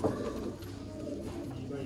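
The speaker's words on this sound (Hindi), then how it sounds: "ये जितने भी कबूतर इस टाइम पे स्क्रीन पे नजर आ रहे हैं" Soft, low pigeon coos murmur in the background, close but quiet, over a dull ambient hum.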